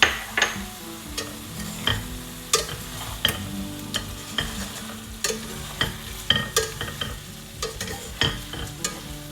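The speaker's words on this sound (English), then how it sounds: "Now I'm going to add juice of half a lemon and give it a quick mix." Fried bhindi (okra) with a splash of lemon juice gets a quick stir in a hot pan: sharp, irregular scraping and clattering strokes of a spatula over a low, steady sizzle, close and without talk.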